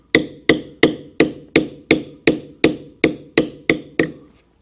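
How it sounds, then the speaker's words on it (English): Steel beveling tool struck on tooling leather while embossing a Celtic knot pattern: eleven sharp, evenly spaced taps in a steady rhythm, close and crisp, each with a short decay, with no talk. "will take our tool and we will tap it and walk it"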